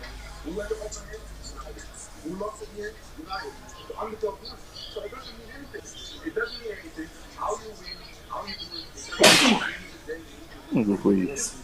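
A man sneezes once, a sharp loud burst partway through, amid casual talk among several people in a sports discussion.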